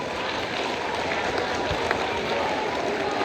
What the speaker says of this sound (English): Let's have a round of applause for Logan, everybody.